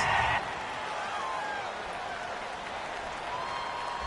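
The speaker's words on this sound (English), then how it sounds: "you're going slow clap on me" Video-game football stadium crowd applauding during a televised-style PS4 broadcast, a steady wash of clapping and murmur at moderate level throughout, slightly louder in the first half second, without distinct separated slow claps.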